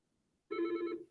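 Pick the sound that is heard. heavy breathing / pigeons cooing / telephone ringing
telephone ringing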